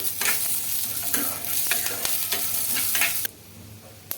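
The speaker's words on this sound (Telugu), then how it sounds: "ఇవన్నీ వేసుకొని బాగా వేయించుకోవాలండి పల్లీలు బాగా వేగితేనే చట్నీ టేస్టీగా ఉంటుంది" Peanuts and tamarind fry and get stirred in a pan for chutney, with a steady close sizzle broken by scraping strokes of a spatula that stop sharply near the end.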